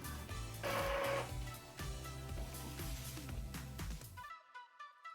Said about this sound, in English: To fix it, I'm going to print a purge sheet to get that black ink flowing again.